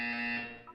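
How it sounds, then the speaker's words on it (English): A buzzer sounds in the Portal 2 video game, one loud harsh electronic tone that holds, then fades and ends in a brief higher blip. "When you hear the buzzer, look down at the floor"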